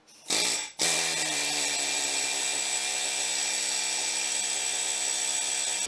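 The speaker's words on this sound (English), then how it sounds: "My air hammer sucks." After a short burst and pause, a loud pneumatic air hammer runs continuously with a harsh, buzzing mechanical whine during Jeep rear axle shaft work.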